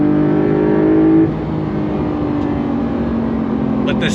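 The 2025 Porsche 911 Carrera T's engine holds a loud, steady high-rpm wail from the cabin, then eases off after about a second, leaving a lower, continuous engine drone.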